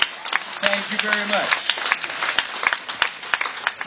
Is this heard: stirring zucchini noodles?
no